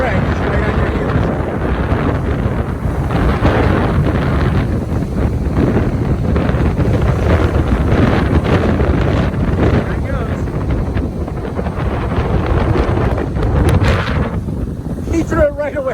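Strong wind gusting at Delray Beach during kitesurfing, roaring steadily across the microphone as loud, rough buffeting with a rumble of waves beneath, while voices call out under the noise.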